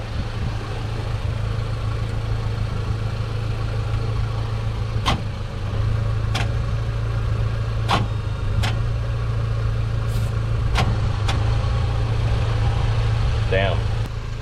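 A broken 1988 GMC Sierra 3500 truck engine runs at a steady idle with a low, constant drone, close and loud, broken by a few sharp clanks and clicks.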